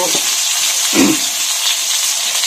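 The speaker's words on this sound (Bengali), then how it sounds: "হলুদ, নুন দিয়ে হালকা ভেজে নেব এটাকে।" Hilsa fish frying lightly with turmeric and salt in a hot pan, a loud, steady close sizzle with a brief low thump of the fish shifting in the oil.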